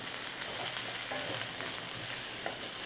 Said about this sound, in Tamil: இந்த முட்டைக்கோஸ் சேர்த்துட்டு நல்லா ஒரு 3லேருந்து 4 நிமிஷம் நீங்கள் நல்லா வதக்கணும்